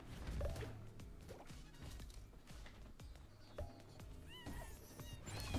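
Cat gun meows in the LEGO Brawls video game, a few short mewing cries over a busy, clattering game soundtrack with hits and crashes.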